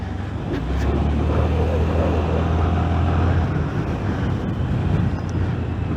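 A 2023 Honda Activa 125 scooter with an air-cooled engine runs smoothly on a test ride, giving a steady low hum mixed with constant wind rush, with no talking.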